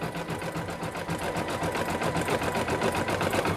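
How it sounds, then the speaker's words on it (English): An embroidery machine stitches a rose design onto a glittered iron-on patch, giving a fast, even mechanical whir of needle strokes, close, steady and uninterrupted, with no talk. "it's going to stitch all down in here to give it some definition to make it look like a rose"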